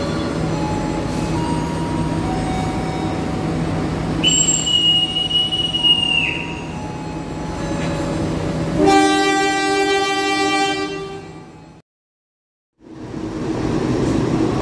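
The Dharmawangsa passenger train departs and runs on the rails: a loud, steady rumble of wheels with a drawn-out squeal, a long horn blast, then a brief drop to near silence before the rumble returns.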